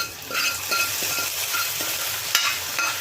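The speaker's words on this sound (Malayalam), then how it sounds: "എരിശ്ശേരിക്കകത്തേക്ക് കടുക് താളിച്ചത് ഇട്ട് കൊടുക്കുക" Tempered mustard seeds tipped into erissery, a Kerala Onam curry of kachil yam, sizzle and crackle steadily and close for the whole stretch, with a brief sharper burst near the end and no talk.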